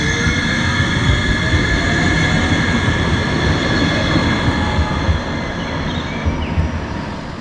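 Riding aboard a Munich tram on line 16, with a steady loud rumble of wheels on rails, a sustained high metallic whine and squeal over it, and the noise easing slightly toward the end, no talking.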